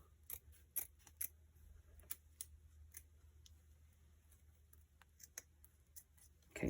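Scissors snip at ribbon ends in quiet, close-up strokes, a scattered series of sharp little clicks and crisp cuts at irregular intervals, with a slightly louder rustle at the end.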